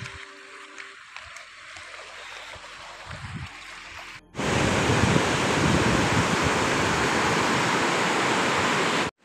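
A swollen, fast-rising river is heard near a bridge: a quieter stretch of outdoor sound gives way abruptly to a loud, steady rushing roar of water that continues to the end.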